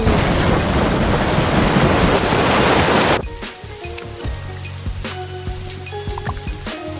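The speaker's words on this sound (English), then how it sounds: "Oh my gosh, there's thunder." Thunder during a rainstorm, a loud broadband roar of rain and rumbling that cuts off abruptly partway through, leaving faint quiet background.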